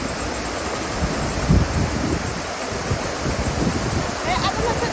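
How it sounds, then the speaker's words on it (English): Water rushing through an open paddle into a canal staircase lock, a steady, broadband roar with no break and light wind buffeting on the microphone. "The water is going from this side down here and filling this lock."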